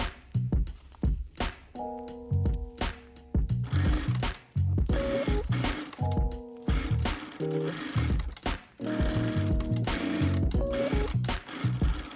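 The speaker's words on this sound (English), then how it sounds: "Stitches the cuff from end to end." A sewing machine stitching a blouse cuff from end to end, loud close mechanical whirring in long bursts with short pauses and a fast pulsing needle rhythm.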